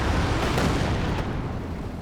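A dense, roaring rumble of a Wurfrahmen rocket barrage exploding in Company of Heroes 2, loud and continuous for about two seconds with no clear gaps between blasts.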